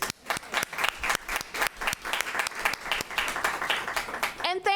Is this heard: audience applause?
yes